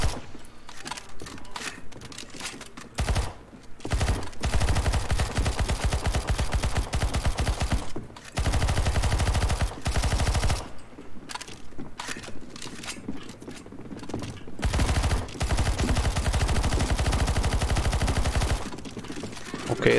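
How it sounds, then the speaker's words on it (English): Sustained automatic gunfire fills a CS:GO Zombie Escape match as players shoot at zombies, with long rapid bursts broken by brief pauses and a constant dense rattle throughout. "Shoot the zombies off the platforms."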